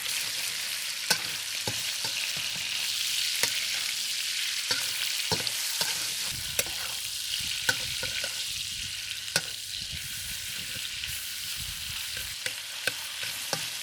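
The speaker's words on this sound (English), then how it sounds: "the wok is hot now, so I'm going to put some oil in it. Then I'm cook the beef first." Beef fries in oil in a hot wok, a steady loud sizzle and crackle running throughout, with sharp clicks and scrapes of stirring breaking through at intervals.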